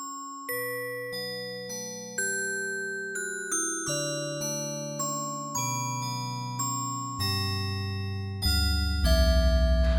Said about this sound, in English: Oh, this is nice, like a little handbell.